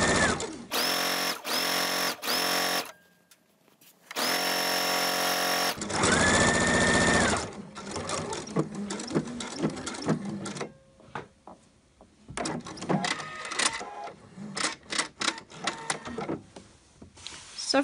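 Sewing machine stitching the placket of a shirt sewn from Liberty fabric, running in several bursts of steady whirring with brief pauses and a few short clicks between runs, close and fairly loud, no voices.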